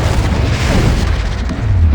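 Confringo fire spell blast in Hogwarts Legacy, a loud, dense booming explosion with a sustained low rumble filling the whole moment, no talk.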